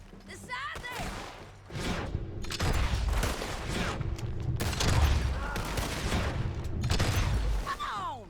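Shootout gunfire in Red Dead Redemption 2, with repeated loud volleys of shots in bursts from about two seconds onward, close and heavy, mixed with shouting voices.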